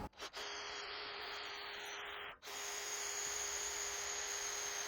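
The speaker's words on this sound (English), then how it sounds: "now I'm going to drill the side holes." A power drill whines steadily as it bores side holes in a metal workbench leg, a sustained high tone with a brief dip near the start and another about halfway, then continuing strongly.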